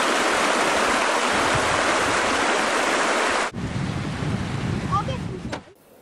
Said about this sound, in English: Here is the path of the river as it flows down the valley heading northeast.